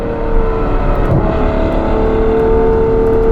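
A Novitec-tuned Ferrari F12 N-Largo engine roars loudly and steadily, a sustained high-pitched rev with deep rumble underneath, close by and continuous, in Dubai.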